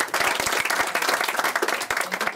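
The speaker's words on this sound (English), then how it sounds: "A round of applause, please." Guests at a wedding reception burst into a round of applause during the best man's speech, loud, dense clapping from a roomful of people that carries on briskly throughout.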